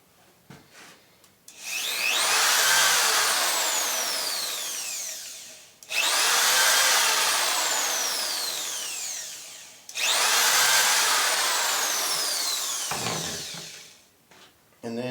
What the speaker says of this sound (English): And then put your pilot holes in for however many screws you're using.